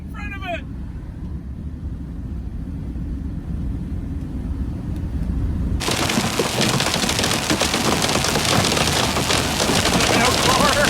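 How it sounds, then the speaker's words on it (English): Hail from a Black Hills supercell suddenly begins pounding down halfway through, a loud dense roaring clatter replacing quieter rumbling wind and road noise. "Monster hail core!"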